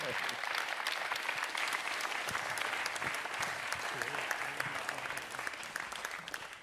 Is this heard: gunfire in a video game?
no